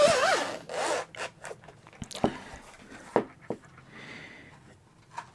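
A zipper is drawn open on a Soundcore Life Q35 headphone carrying case whose zipper has a soft rubbery texture, giving several short rasping pulls with small clicks and handling rustle, close and moderately quiet.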